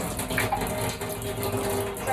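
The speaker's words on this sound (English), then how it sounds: "Take the water bowl to the sink where we will clean it and refill it with cold water." Cold water running steadily from a sink tap into a pet's water bowl, a continuous close hiss and gush filling the whole moment with faint voice underneath.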